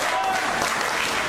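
Wrestling arena crowd at a Wolves versus Fourth Gunn tag match, a loud sustained wash of cheering and applause filling the space, with voices mixed into the roar.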